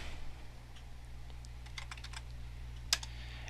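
Faint, scattered key clicks come from a computer keyboard while typing commands, with a single louder keystroke near the end over a low steady hum.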